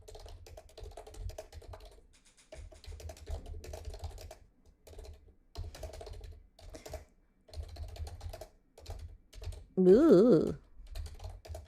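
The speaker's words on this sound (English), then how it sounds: "I will just quickly type them." Bursts of quick, soft key taps on a computer keyboard come in short runs with brief pauses, close and quiet, and a voice briefly exclaims near the end.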